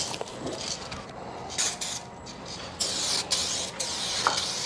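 A spray paint can hisses in repeated short and long bursts as a coat goes onto a car, the airy spray rising and falling at close range.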